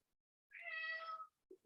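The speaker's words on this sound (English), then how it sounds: "That's my cat." A house cat gives one clear, drawn-out meow close by, indoors during a watercolor painting session with tube paints, followed by a brief soft sound.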